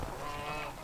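A duck gives a brief, close, nasal honking quack that lasts under a second, set against a farmyard with chickens and no talking.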